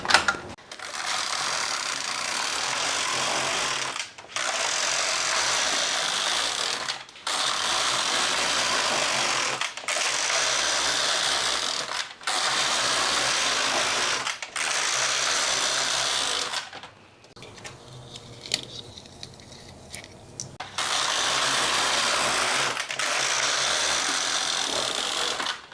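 A knitting machine knits rows of a raglan sweater. The carriage makes repeated loud, whirring, clattering passes of about three seconds each, split by short pauses and one longer, quieter gap. The sound is close and there is no talk.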